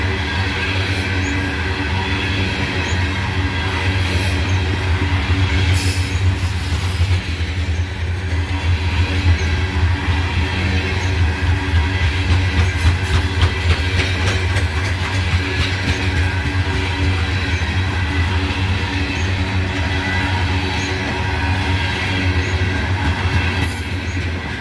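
A CSX freight train of rotary dumper cars rolls steadily past up close, with a continuous low rumble, rhythmic wheel clatter and occasional squeals, and no talk throughout.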